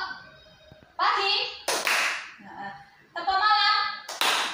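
Schoolchildren in an Indonesian group counseling session do the tepuk pagi clapping rhythm game, short bursts of patterned hand claps mixed with children's chanting voices, close and lively.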